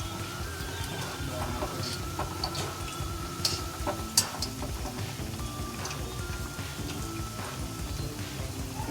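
Onion pakoda crisping in hot oil, giving a steady, dense crackle and bubbling throughout with a few sharper pops and clinks near the middle, moderately loud and close, with no talking.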